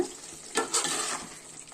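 A spoon scrapes and stirs through a sizzling pan of raw mango fish curry, with soft wet swishes over a steady frying hiss.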